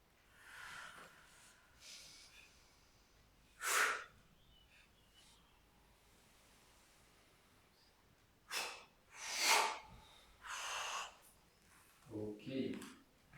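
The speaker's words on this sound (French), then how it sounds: "faites une respiration tonique." During a yoga session, several forceful, energizing breaths puff out in short bursts, close and fairly quiet, spaced irregularly, with soft speech now and then.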